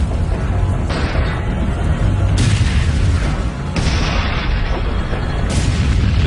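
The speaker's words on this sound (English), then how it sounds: "The sound of gunfire alerts a platoon of American M18 tank destroyers." Gunfire and explosive booms from a World War II tank battle at Arracourt, as German tanks advance on American M18 tank destroyers; dense, continuous loud blasts and bursts fill the clip with no pauses.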